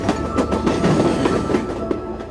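Passenger train on Mexico's Copper Canyon railway rolling along with a steady clickety-clack of wheels over rail joints, rhythmic rattling and rumble heard up close, with no talk over it.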